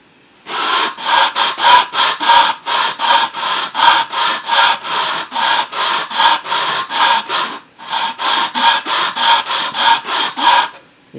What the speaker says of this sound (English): You really just want to let the sandpaper do the work anyways.